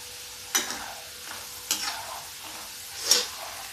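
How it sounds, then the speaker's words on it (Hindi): Potato pieces frying in hot oil in a pan for a corn chaat recipe, a soft steady sizzle broken by three louder stirring scrapes and splashes, close and without talk. "ये देखिए आलू देखिए बिल्कुल आपको ऐसे ही फ्राई करना है"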